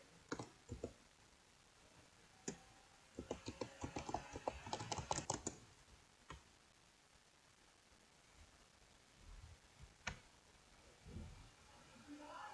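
Keys clatter on a computer keyboard as a password is typed, first a few isolated taps and then a quick burst of clicks, followed by scattered single presses in a quiet room.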